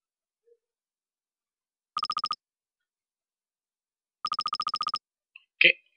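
A defective mobile phone rings in the video game Mogeko Castle: two bursts of rapid, trilling electronic ringing separated by a couple of seconds of silence, followed by a brief soft click and a short noisy sound, with no voices.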